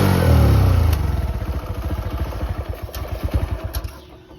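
A TVS motorcycle engine in good condition revs down from a loud roar to a steady, rhythmic idle, its exhaust pulses close and clear.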